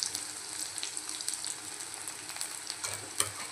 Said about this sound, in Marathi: चला, आता आपण यामध्ये आपल्याला वाटण टाकून देऊ।